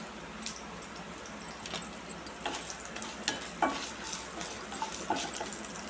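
Half a spoon of cumin seeds sizzling and crackling in hot oil, a steady soft frying hiss with scattered sharp pops and spits, close and fairly quiet, no talking.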